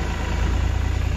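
An old Geo car's engine runs with a steady, close, low rumble and a faint even pulse, unbroken for the whole moment with no voices.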